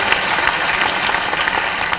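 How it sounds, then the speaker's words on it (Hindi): An audience claps steadily to welcome religious leaders at a public event in Ravindra Bhavan, Bhopal. The applause is dense and continuous, a short burst of many hands with no voices on top. "एक बार सभी धर्म गुरुओं का भी आप ताली बजा के अभिनंदन कीजिए।"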